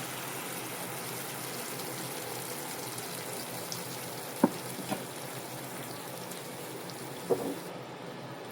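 Ground peanut chutney hits a hot tempering in a pan, giving a steady low sizzle throughout with a few faint pops and clicks.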